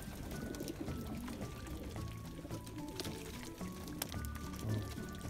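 Water poured into a bath for pigeons in Virginia Beach, a steady soft pouring and splashing amid background noise and faint bird sounds, no clear talking.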